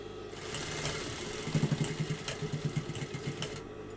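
An industrial sewing machine stitches a straight seam, rising from a soft motor whir into a rapid, even run of mechanical thumps for about two seconds, then slowing and stopping.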